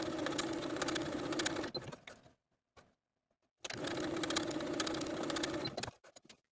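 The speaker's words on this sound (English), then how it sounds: "we're going to baste the side edges from top to bottom using the longest stitch on your machine" A sewing machine runs long basting stitches down the side edges of dress fabric in two steady mechanical bursts, separated by a quiet pause and a few faint clicks.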